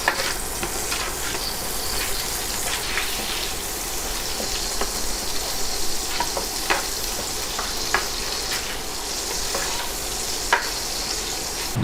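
Hot pan holding turkey drippings sizzles steadily while a utensil stirs and scrapes the bottom in scattered strokes, close and continuous with no talking.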